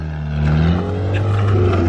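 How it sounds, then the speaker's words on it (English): A car drives past close by, its engine note rising and growing louder as it approaches, a steady revving hum that builds toward the end. "There's a car coming!"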